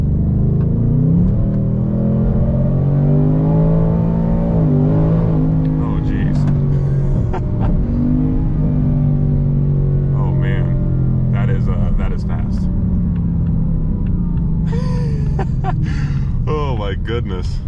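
A 2024 Ford Mustang RTR Spec 3 engine drones and rises while powering through a corner, heard from inside the car under continuous talk.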